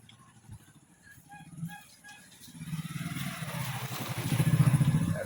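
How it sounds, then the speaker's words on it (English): Motorcycles and other vehicles on a road beside Topchachi Lake near Dhanbad approach and swell into a loud engine rumble that builds toward the end, with faint clatter and distant voices underneath. "Beautiful pathway through which vehicles are flying to and fro."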